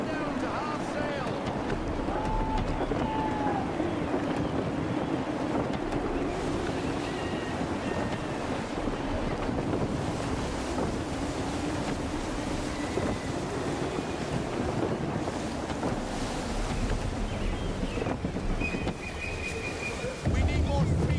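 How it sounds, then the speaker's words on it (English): Sailing a ship in Assassin's Creed 3 Remastered, with gusty wind roaring steadily and waves washing against the hull, loud and continuous for the whole stretch, while game voices speak underneath. "Gusty winds can be difficult to manage."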